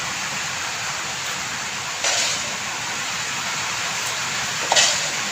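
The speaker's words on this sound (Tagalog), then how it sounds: "Bumubukal ng tubig." Floodwater wells up inside a flooded house during rain, giving a continuous dense rushing, bubbling wash of water that stays steady and close, with a couple of brief brighter splashes and no talking.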